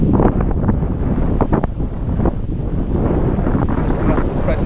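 Wind buffeting a microphone beside a channel of water, a loud, continuous, gusty low roar with softer water sounds and a voice partly masked underneath.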